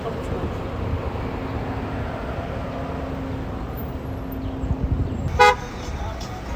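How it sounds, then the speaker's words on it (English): Road traffic rumbles steadily at a busy open market, with a brief car horn honk standing out near the end over the continuous engine noise. "Traffic is coming through."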